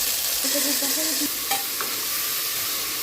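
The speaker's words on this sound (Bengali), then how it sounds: "এবার আমি সব সবজিগুলো দিয়ে দেবো। এবার মটরগুলো দেবো।" Vegetables and peas fry in two spoons of hot oil in a pressure cooker, a steady loud sizzle with a brief stirring scrape partway through.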